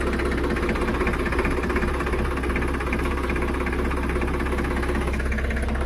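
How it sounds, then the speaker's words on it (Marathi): A tractor engine runs as the tractor creeps forward, a loud, close, continuous drone with a steady mechanical throb and no voices. "थोडे ट्रॅक्टर पुढे घेत आहे"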